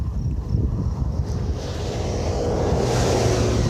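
Strong headwind buffets a cyclist riding on a desert road in New Mexico, a steady loud roar of wind noise across the microphone that swells slightly louder toward the end, with no voices.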